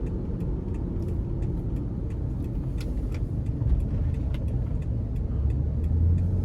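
A 2007 Lexus RX 350 FWD cruises with a low, steady engine and road hum from inside the cabin, light rattles and faint clicks scattered over it, with a slight swell near the end.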